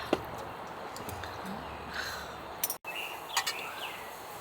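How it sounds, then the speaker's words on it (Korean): Scattered bird chirps and calls over a quiet night background at a summer campsite near Jecheon, South Korea, a few sharp clicks mixed in, no talking. "그러니까 새소리 장난 아니야"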